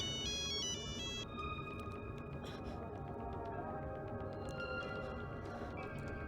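A mobile phone rings with a repeating electronic ringtone melody, clear and close, continuing over several seconds against a quiet indoor background.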